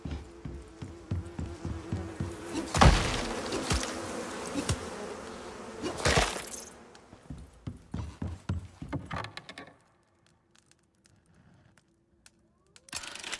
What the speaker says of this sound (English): More bees, because why wouldn't there be?